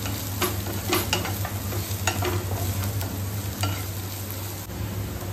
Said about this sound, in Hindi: मेरी प्याज जलने लगी है, तो जल्दी से उसको पहले चेक कर लेते हैं।